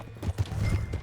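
Horse hooves on the ground in Red Dead Redemption 2, a quick run of close clip-clop beats over about a second, fairly soft and alone.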